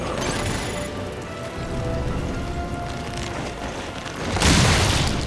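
Dense, rumbling explosions and crashing impacts in Resident Evil Revelations roll on continuously, with a brighter burst of noise blasting near the end.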